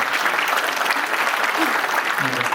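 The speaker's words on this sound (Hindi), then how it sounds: "जोरदार तालियां बजाएं इन सभी के लिए" Steady, dense applause from a large audience at an awards ceremony, sustained throughout without a break.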